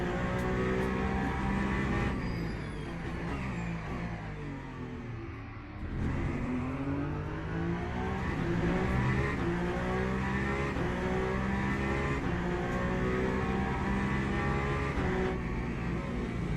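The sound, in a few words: Peugeot race car engine in Le Mans Ultimate racing video game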